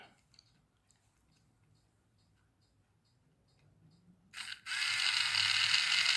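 A small motor pulled from a dancing RC car during a teardown gives faint, sparse ticking at first, then whirs up into a loud, steady buzzing drone up close.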